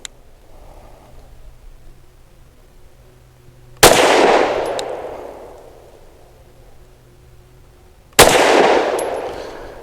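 Two loud gunshots from a Springfield Armory Echelon pistol, about four seconds apart, each a sharp crack followed by a long booming echo that fades away. No voices are heard.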